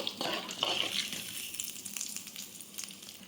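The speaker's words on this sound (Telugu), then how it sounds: "కొంచెం జీలకర్ర, కొన్ని ఆవాలు, కొంచెం శనగపప్పు వీటిని ఫ్రై అవ్వాలి." Cumin, mustard seeds, chana dal and dried red chillies fry in hot oil, a soft crackling sizzle with a few brighter pops near the start that then settles into a quieter, fainter hiss.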